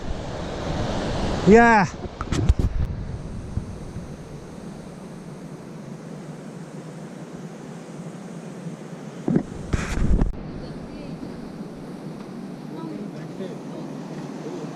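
A mountain stream beside the Beas river near Manali rushes steadily in a broad, continuous roar, with wind buffeting the microphone, a couple of brief bumps, and one short spoken word.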